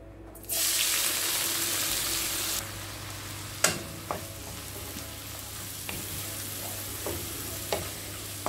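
Onions and shallots go into hot coconut oil for Kerala-style sardines, setting off a loud rushing sizzle that settles into a steady fry, broken by several sharp spatula clicks while stirring.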